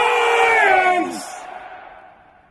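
A stadium tour group at West Ham United's London Stadium shouts the chant "Irons!" in unison, one loud collective bellow that breaks off quickly and leaves a fading room echo.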